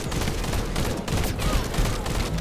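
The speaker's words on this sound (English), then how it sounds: "I think I'm getting shot in the back." Rapid bursts of automatic gunfire from a sci-fi looter shooter, The First Descendant, a dense continuous fusillade of overlapping weapon shots during a firefight, loud and unbroken throughout.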